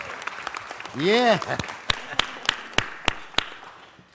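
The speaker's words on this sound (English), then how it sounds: "Oh, let's give them a round of applause." A Los Angeles City Council meeting audience claps for the family behind Tex French Restaurant in Echo Park. A brief voice comes first, then crisp, separate claps in a steady rhythm.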